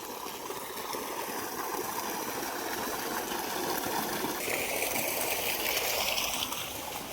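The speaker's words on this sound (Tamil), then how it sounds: "தண்ணி எவ்வளோ ஃபோர்ஸாக வருது பாருங்கள்" Well water gushes forcefully from a supply outlet at a coconut farm property near Koovathur, a steady, loud rushing wash that holds constant and brightens slightly toward the end, with no talk.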